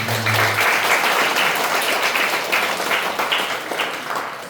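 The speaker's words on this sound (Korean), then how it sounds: "박수 한번 하겠습니다" Congregation applause after a children's worship song at a church Christmas-season service, dense sustained clapping filling the room at steady loudness, with a brief tone at the start.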